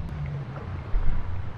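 Single-engine sports fishing boat passing on open water, a steady low engine drone mixed with wind buffeting and water wash that swells slightly midway, with no talking.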